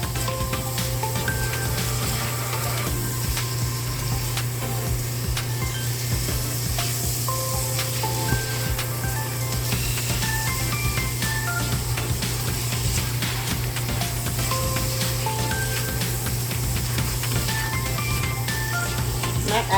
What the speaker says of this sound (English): And I'm going to saute them till the onions are soft.